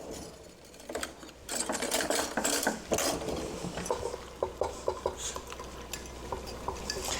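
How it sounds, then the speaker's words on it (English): Whisk beating cornstarch and about three tablespoons of water in a bowl in a kitchen: quick, steady metallic clicking and scraping, close and fairly loud, with a few sharper taps near the end and no talking. "we're going to whisk that together."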